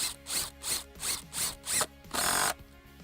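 An impact driver hammers a SPAX PowerLag screw into a wooden beam in six rapid, loud bursts of rattling impacts, each separated by a short pause, with the final burst held longest.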